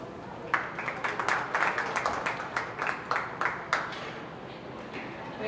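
An audience at a county fair open class beef show claps for an exhibitor in the ring. The applause is steady and moderately loud, with distinct clustered claps that continue for several seconds.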